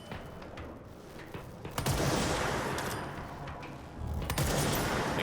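Gunfire from the PC action game Control rattles in dense rapid volleys, loud and continuous with surges around the second and fourth seconds, with no speech over it.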